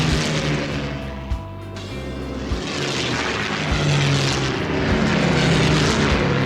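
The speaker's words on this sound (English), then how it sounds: "Gruntbots in planes." Gruntbot planes in the Banjo-Kazooie Nuts & Bolts video game drone loudly and steadily, a propeller-engine hum with a few small shifts in pitch, filling the whole stretch with no talk.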